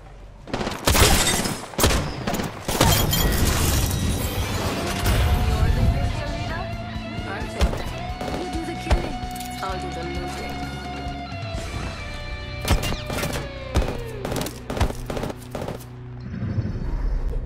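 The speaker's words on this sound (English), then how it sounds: "The enemies are shooting at me." Heavy gunfire from enemies in the battle game Apex Legends, with repeated sharp bursts and automatic volleys rattling loudly throughout, over steady game sounds and a long sustained tone in the middle.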